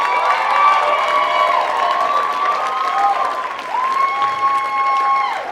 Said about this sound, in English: so I'd like to give her a huge round of applause.